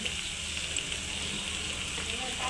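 Potato chops dipped in gram-flour batter frying in hot oil, a steady close sizzle and bubbling throughout with no talking.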